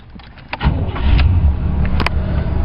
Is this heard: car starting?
yes